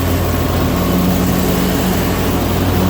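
A Troy-Bilt zero-turn mower with a steering wheel runs while cutting grass, its engine a loud, steady drone with a constant low hum and a whirring blade layer, close by and uninterrupted.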